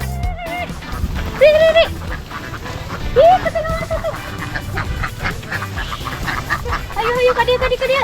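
Several ducks quack repeatedly in nasal bursts in a rice field, over a busy outdoor background, with people talking nearby.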